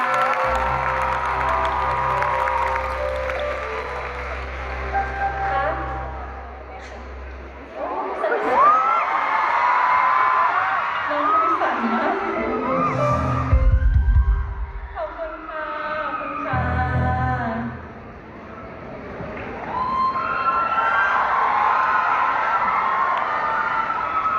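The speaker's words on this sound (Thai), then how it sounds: "ขอเสียงปรบมือให้น้องเลยค่ะ" Fans at a birthday fan-meeting event cheer, whoop and applaud in swelling waves, with loud screams between calmer stretches and amplified voices in the room.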